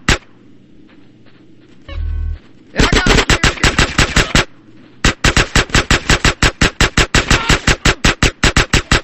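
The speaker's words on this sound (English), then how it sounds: "Some suppressing fire in there!" Machine gun fire in GTA San Andreas, loud rapid bursts of evenly spaced shots with a short pause between two long volleys, following a brief low thud.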